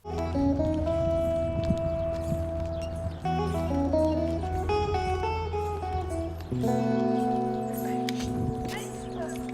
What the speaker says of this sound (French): C'est un petit char tiré par un cheval.